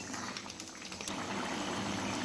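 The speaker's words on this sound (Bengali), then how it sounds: "এরকম ফুটিয়ে নেব মশলাটা এই গ্রেভিটার সাথে" Chana masala gravy boils in a pot with a soft, continuous bubbling and gurgle, close and fairly quiet, with no voices.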